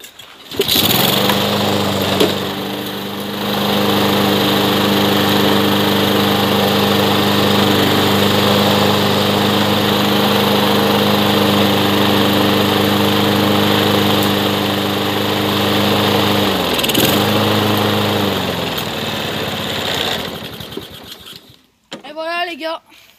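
Repaired lawn mower engine firing up and running: a loud, steady high-revving drone holds for nearly twenty seconds with one brief dip, then cuts out, followed by a voice speaking.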